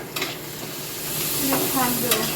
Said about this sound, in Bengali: ওটা শাক ভাজবেন